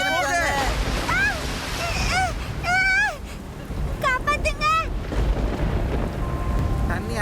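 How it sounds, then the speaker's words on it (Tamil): Heavy rain and rushing water in an animated cartoon form a steady broadband wash, like surf and wind, under high cartoon voices that call out and cry in quick bursts. "மழை ரொம்ப வேகமா பெய்யுது."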